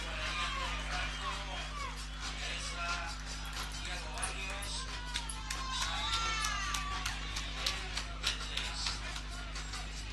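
A stadium crowd applauds as Méndez, wearing number 8, leaves the pitch for a substitution in the Guaraní vs Mitre football quarterfinal, with a distant, diffuse roar and scattered claps under continuous commentary.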